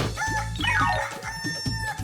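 Rooster crowing with hens clucking nearby on a poultry farm, a busy chorus of overlapping bird calls, fairly loud and continuous.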